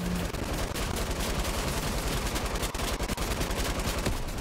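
Rapid gunfire from the video game Fortnite rattles in a dense, continuous burst of loud, close shots with no pause, and nobody speaks.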